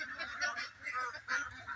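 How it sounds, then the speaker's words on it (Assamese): Several local ducks on a farm give nasal, honking quacks in quick overlapping bursts, moderately close and fairly faint. "লোকেল হাঁহ"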